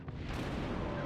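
Naval guns firing in World of Warships during a battleship duel, a continuous heavy low rumble of gunfire filling the short stretch.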